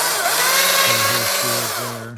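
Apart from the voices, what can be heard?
Stihl MSA 220 C electric chainsaw cutting hardwood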